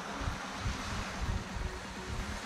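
Strong wind roars steadily at a Busan seaside while fishing for horse mackerel, with waves breaking beneath it and a constant low rumble of gusts buffeting close by.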